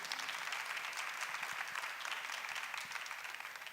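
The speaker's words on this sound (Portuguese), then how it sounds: "Vamos aplaudir a palavra de Deus" A congregation claps together at a Thursday worship gathering in Cachoeira Paulista, producing dense, steady applause that fills the room. It stays at an even level throughout and fades slightly at the end.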